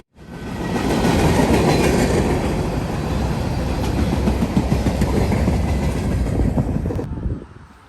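A train on the old Big Four rail route between Cincinnati and Columbus rumbles past close by, loud and sustained with rhythmic clickety-clack of wheels on the rails before cutting off abruptly at the end.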